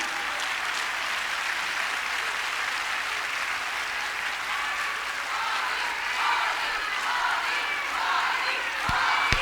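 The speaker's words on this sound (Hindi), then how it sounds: "एक बार जोरदार तालियां हम अपनी इस संगठन के लिए" Steady, dense applause from a large crowd at a BJP political rally in Delhi on Women's Day, continuous and loud throughout, with a few sharper claps near the end.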